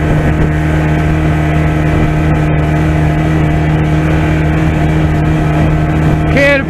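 A 1989 Evinrude 25 hp outboard motor drones steadily at wide open throttle, a loud continuous engine tone with strong low harmonics driving a boat, wind buffeting throughout and a brief higher whine near the end.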